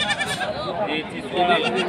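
A goat bleats in wavering, drawn-out cries close by at a livestock market, mixed with nearby voices talking.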